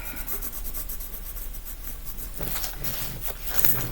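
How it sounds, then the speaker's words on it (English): Pencil rubbing over built-up layers of Mont Marte oil pastel to smooth the bumps, a continuous close scratchy rasp that grows rougher with short repeated strokes toward the end. "This pencil will still do the trick."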